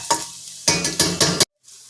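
Garlic sizzles in hot oil in a pan while being stirred, giving a few loud scraping bursts followed by a brief silence and a soft sizzle.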